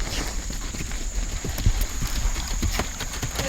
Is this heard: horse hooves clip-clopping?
yes